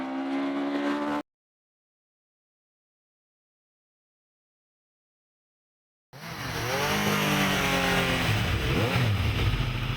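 A Formula 3 hillclimb race car on a Gurston speed hillclimb course, driven hard toward the finish line. A close engine note rises and climbs with each gear change, cut off by a few seconds of silence, then returns loud and revving.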